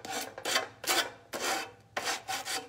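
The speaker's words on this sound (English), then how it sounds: "we're gonna just take our sanding block, and basically all this is doing is sanding off" A sanding block rasps back and forth over a metal surface coated with decoupage paper in five quick, even strokes, each a loud gritty scrape close by with no talking.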